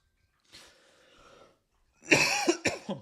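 A single harsh cough bursts out close to the mic after a soft breathy throat sound, loud and brief, with no talking.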